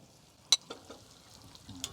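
Shrimp sizzling in a hot pan for tacos, a soft steady fry with a few sharp crackles and pops, heard close with no talking.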